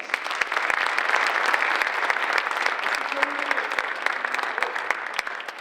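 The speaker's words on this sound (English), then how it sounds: "So let's give him another round of applause." An audience at a community address gives a round of applause: a dense, sustained wash of clapping hands, steady throughout, with faint voices underneath.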